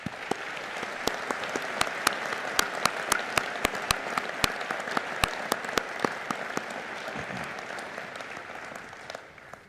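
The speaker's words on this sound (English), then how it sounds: "I invite all of us to show our awe at the fortitude that they have demonstrated with a round of applause." Sustained applause from a medical and health sciences graduation audience, a dense roar of clapping with sharp individual claps standing out near the front, lasting nearly ten seconds before trailing off.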